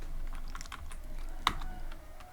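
Quick bursts of keystrokes on a computer keyboard while coding a Pong game in Python, a short run of close, crisp clicks with one sharper tap near the middle and no talking.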